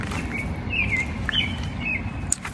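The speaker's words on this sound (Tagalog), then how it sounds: "Sa kahuni ng ibon. Narinig mo ba mga kamsis?" Several short bird chirps in a park, thin whistled calls coming and going over a steady outdoor background hum, moderately distant with no talking.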